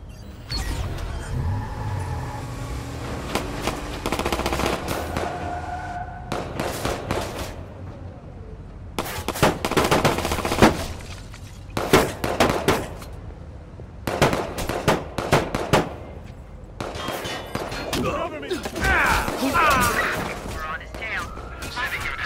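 Gunfire in the video game Watch Dogs 2 comes as repeated loud bursts and rapid automatic volleys over a busy background, with voices speaking between and over the shots.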